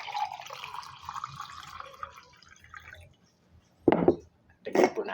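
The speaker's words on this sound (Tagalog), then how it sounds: "Lagyan po natin ng isang basong tubig." A glass of water poured into a pan of sautéed tomatoes and chayote, a trickling stream at first followed by two short splashy bursts, with no talking.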